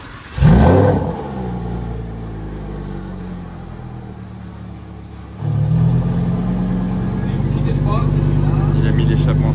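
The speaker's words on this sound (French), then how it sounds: "il a ouvert l'échappement en mode sport" A supercar with its sport exhaust opened gives a loud rev at the start and then settles to a deep, rumbling idle. The idle swells again midway and stays heavy and close, with people talking nearby.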